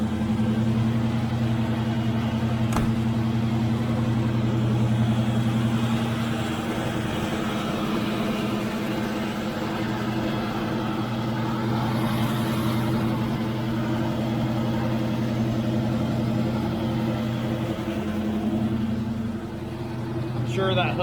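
A 1934 Buick engine idles steadily while warming up after a cold start, a low, even rumble with a constant hum throughout, close by, with a sharp click near the start and a slight dip near the end.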